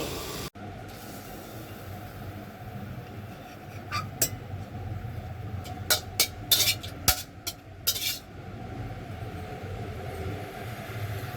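Red water spinach stir-fried whole in a pan gives a steady low sizzle, broken by a run of sharp spatula scrapes and clicks in the middle, close and fairly quiet.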